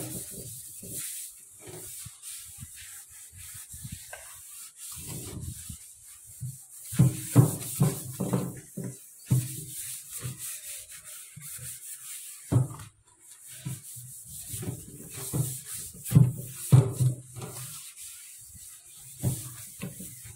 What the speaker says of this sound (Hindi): देखिए इस तरह से 5-7 मिनट तक रगड़ना है जूने को